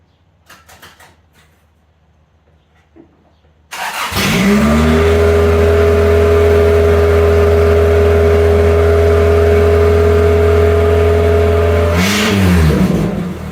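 A Toyota Tercel 4WD wagon fitted with a 4A-C engine catches after a short quiet stretch and settles into a loud, steady run, with the engine revving up once near the end.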